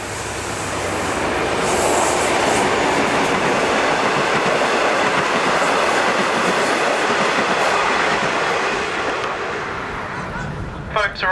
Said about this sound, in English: the Harris trains were disposed of or rebuilt as H-carriages, like the one we are currently riding on